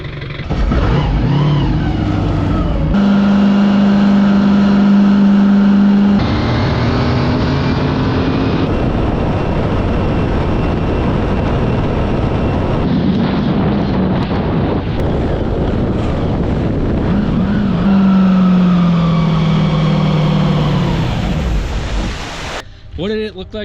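An LS V8-powered ski boat running at speed on open water, a loud, sustained engine drone with shifting pitch mixed with heavy wind buffeting and water rush.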